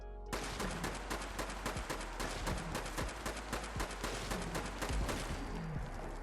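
A handmade bullpup rifle firing fast, dense bursts at a Deathclaw in a video game, a loud continuous rattle of shots with no pauses.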